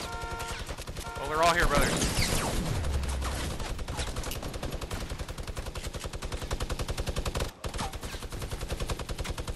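Sustained automatic gunfire in Fortnite Battle Royale, a dense, fast, loud rattle of shots running through the whole stretch with a brief gap, while someone talks over it.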